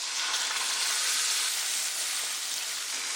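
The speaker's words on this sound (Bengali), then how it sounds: "পেঁয়াজটা লাল লাল করে ভাজা হয়ে গেছে, এখন ধনে, জিরে, শুকনো লঙ্কা, কাঁচা লঙ্কা" Onions browned in oil with coriander, cumin, dried and green chillies sizzling in a pan while goat curry is cooked, a steady close hiss of frying that continues evenly without pause.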